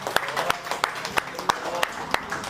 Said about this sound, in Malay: Pertama sekali, tepuk tangan kita dulu